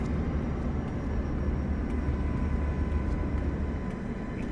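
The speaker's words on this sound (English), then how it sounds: "Could be a plane coming in." A plane comes in to land at LAX airport at night, a steady broadband roar of jet engine noise that holds at an even, fairly loud level throughout, with no voices.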